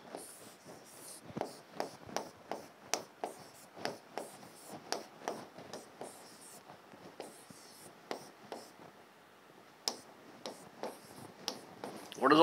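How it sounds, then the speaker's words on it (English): A pen scratches out a box diagram on paper in quick, rhythmic strokes, close and fairly clear, with short pauses between bursts of writing and no speech. "I must write down the box diagram"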